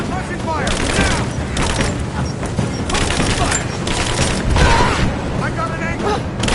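Gunfire and combat noise in Rise of the Tomb Raider, with repeated loud bursts of shots, mechanical clanks and booms filling several seconds while soldiers shout orders over the fighting.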